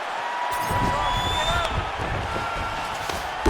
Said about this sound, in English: Excellent ground and pound here by Khamzat Chimaev.